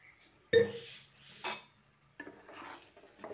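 Stirring a vegetarian paneer gravy in a pan after a splash of water is added: three separate scraping, clinking bursts of a spoon against the pan, with quiet pauses between them and no talking.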